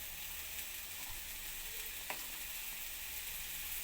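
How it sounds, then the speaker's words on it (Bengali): Potatoes, pumpkin and long beans fry in a pan with a steady, close, even sizzle and an occasional faint stir, with no talking. "সবজিগুলো আমার প্রায় ভাজা হয়ে এসছে"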